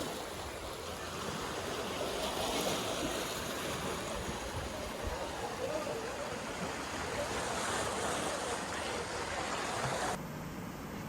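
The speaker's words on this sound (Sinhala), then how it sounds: "එහා පැත්තේ මුහුදු වතුර පොකුණට පිරිලා ආපහු යනවා" Sea water surging into the Keerimalai pond near Jaffna, a steady, loud wash of surf with wind rushing across the microphone, unbroken for the whole stretch.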